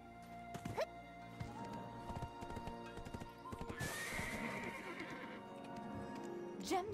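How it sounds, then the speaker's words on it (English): A horse in the Black Desert Online video game, with clip-clopping hooves and a loud neigh in the middle, plus a short whinny near the end, all over game music. "Horse."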